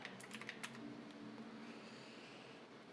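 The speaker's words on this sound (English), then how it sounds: "We can just go to our art library and type in Barbarian" Faint typing on a computer keyboard, a short burst of quick clicky keystrokes at the start followed by a quiet hum of room tone.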